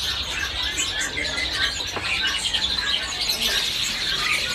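Songbird calls in a busy bird shop, where cucak ranting birds are kept among other caged birds, with chirps and tweets over a dense, constant backdrop of many birds.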